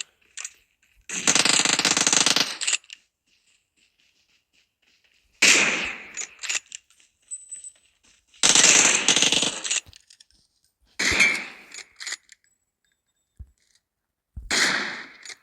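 Automatic gunfire in a shooting video game comes in five separate rapid bursts, each lasting about a second, loud and close, with silent gaps between them.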